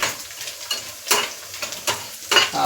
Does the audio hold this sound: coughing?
no